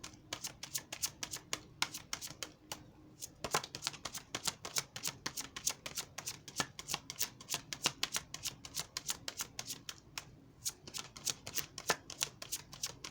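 Tarot cards shuffled by hand at close range, producing quiet, rapid riffles and taps in steady, repeated bursts with no talk.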